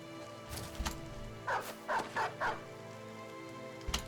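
A small dog in a video game gives four quick, evenly spaced barks in a short burst, moderately close, over a steady low ambient drone with occasional soft thuds.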